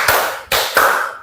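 Hand claps in a classroom clap game led by a teacher, three sharp claps spaced about a third of a second apart, each ringing briefly in the room.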